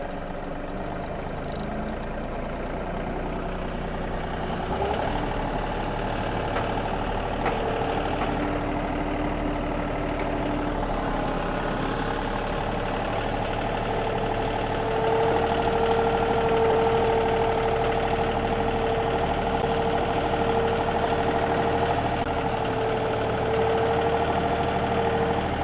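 A 4WD vehicle in low range pulls a scraper blade across a lawn, its engine giving a steady low drone that strengthens midway and holds a sustained heavy hum, with no talk.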